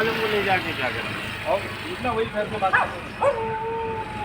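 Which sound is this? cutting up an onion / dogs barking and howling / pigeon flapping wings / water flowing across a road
dogs barking and howling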